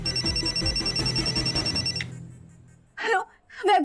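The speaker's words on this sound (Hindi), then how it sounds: "किसी अननोन नंबर से फोन आ रहा है सर" A telephone rings with an incoming call in a Hindi TV drama scene, a steady electronic ring running for about two seconds, loud over background score, then cutting off before voices and breaths follow.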